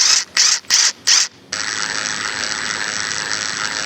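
A Makita impact wrench hammers on a bolt and socket in four quick loud bursts, then a steady mechanical whir runs on alone, close up, while work is done on a Volkswagen Beetle.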